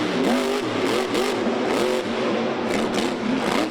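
A monster truck engine revs hard and continuously, its pitch rising and falling in repeated surges, raw and roaring through a big exhaust.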